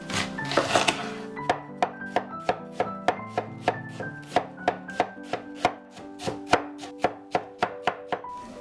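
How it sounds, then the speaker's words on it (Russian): Rapid, steady knife chops dicing potatoes and onion on a cutting board, a long even series of sharp thuds close by, with a brief rustle at the start. "А сейчас нам нужно также кубиками нарезать картофель и лук."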